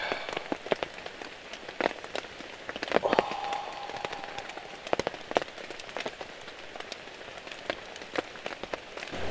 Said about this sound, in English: listen to the pitter patter of the rain